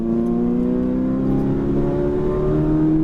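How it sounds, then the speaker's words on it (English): A Ferrari 458 Italia engine accelerating hard on a race track, a loud sustained high-pitched howl rising steadily in pitch with no talk over it. "squeeze the throttle all the way out to the right side"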